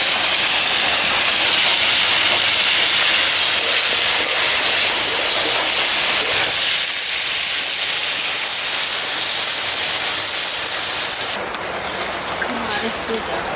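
A handful of chillies hits hot oil while garden vegetables cook, making a loud, continuous, close sizzling hiss that slowly eases near the end.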